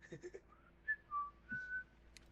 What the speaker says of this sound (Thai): ผิวปากแล้วนะ